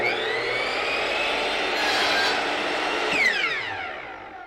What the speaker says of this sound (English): now we're just going to miter the ends in preparation for the molding